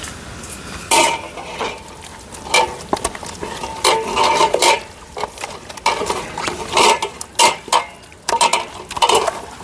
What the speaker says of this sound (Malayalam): ഇത് മസാലയൊക്കെ കൂട്ടി ഇളക്കട്ടെ ഒന്നുകൂടി.